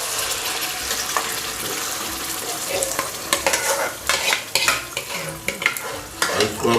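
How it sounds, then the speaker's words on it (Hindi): A paste of onion, tomato, ginger and garlic fries in a pan as the gravy base for beef nargisi kofta. It makes a loud, close, bubbly sizzle that grows choppier as it is stirred and scraped. No one speaks. "इसको हम भूनेंगे।"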